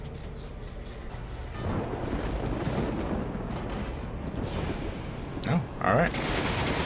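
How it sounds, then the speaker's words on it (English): Cannon fire and gunfire in the Resident Evil Village video game. A steady din of shots runs under a brief spoken reaction, and two heavier booming blasts come near the end. "Oh no, that's the cannon."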